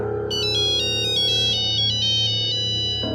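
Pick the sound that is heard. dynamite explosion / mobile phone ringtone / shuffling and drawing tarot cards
mobile phone ringtone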